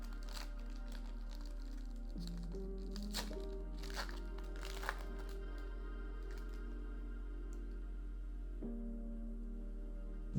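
Foil booster packs of Altered trading cards are torn and unwrapped, with repeated crinkling and crackling bursts over a steady background hum and music tone.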